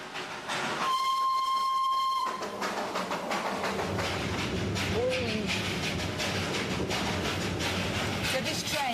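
A coal-fired toy train heading up toward Darjeeling, India, sounds a loud, steady whistle for about a second, then rolls on with a close, continuous rumble and clatter through a street.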